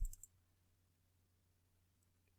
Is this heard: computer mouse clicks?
yes